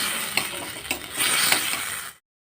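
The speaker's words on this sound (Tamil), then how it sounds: "கொஞ்சம் எண்ணெய் ஊற்றிட்டு வணக்கி எடுத்துக்கலாம்" Onion, tomato and curry leaves sautéing in hot oil for a chow chow curry, a close, steady sizzle broken by a few stirring scrapes and clinks before cutting off abruptly.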